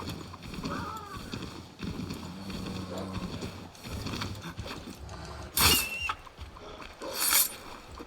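Rhythmic hoof clip-clop of a trotting horse in Assassin's Creed 3 Remastered under continuous game audio and talking, with a couple of sharp bright bursts near the end.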